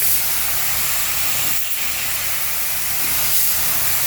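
A steady, loud spray-paint hiss runs throughout, broad and airy, with one brief dip in the middle before it continues unbroken, as paint goes onto a fender of a 1938 SS Jaguar 3½ Drophead under restoration.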